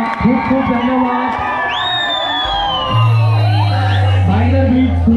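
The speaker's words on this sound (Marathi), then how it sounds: "हॅलो जोरदार टाळ्या झाला पाहिजे" A crowd at a Govinda troupe event whoops and shouts in loud, lively bursts while someone speaks over a microphone. A low droning tone enters midway.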